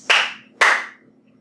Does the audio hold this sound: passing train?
no